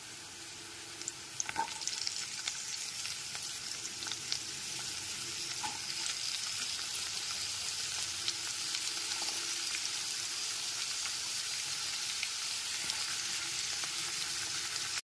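Continuous loud sizzle of cut pumpkin pieces frying in oil, with occasional stirring clicks and scrapes, steady throughout.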